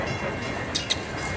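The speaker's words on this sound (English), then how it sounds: "Train." A train rolls past during a film scene, a steady broad rumble with two brief sharp high clanks near the end and no talking.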